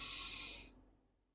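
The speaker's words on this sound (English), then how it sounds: "Breathe in, breathe out." A single deep, hissing inhalation during a breathwork exercise, close and airy, stops abruptly and leaves near-silence.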